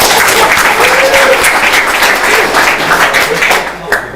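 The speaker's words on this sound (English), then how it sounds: "I think we need to clap each other, for yourself" Audience applause at a talk on progressive web app performance, steady dense clapping filling the room throughout, loud and continuous with no break.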